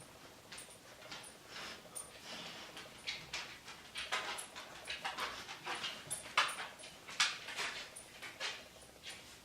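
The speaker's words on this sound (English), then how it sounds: "Sorry about the noise in the background, the dogs are walking around." Dogs shuffle and move about nearby, with scattered clicks, soft thumps and a faint whimper, fairly quiet and irregular.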